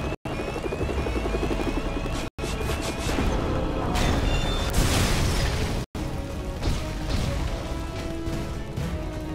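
Helicopter rotor thrumming continuously in the LEGO Marvel's Avengers video game on an Iron Man 3 level, loud and steady, mixed with game crashes and bursts, with brief dropouts of silence.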